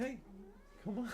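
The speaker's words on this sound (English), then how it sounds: "Cat is being really bad right now." A house cat meows loudly and close in two drawn-out calls, while a person speaks briefly to it.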